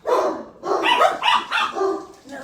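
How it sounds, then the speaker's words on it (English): A dog barks in a quick series of loud, close yips and barks, several in a row with short gaps between them. "No barking in the craft room."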